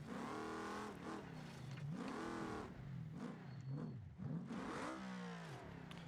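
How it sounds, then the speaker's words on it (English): A purpose-built trophy truck engine in the BeamNG.drive driving game revs up and down repeatedly, with rising and falling pitch sweeps, loud and close with no talk. "I'm going to quickly showcase the thing available to everybody, the new truck in BeamNG."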